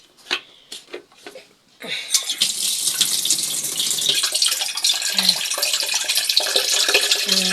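Kitchen tap running to get water for coffee: a steady hiss of flowing water that starts after a few clicks and knocks and continues evenly, fairly close, with a few faint thuds underneath.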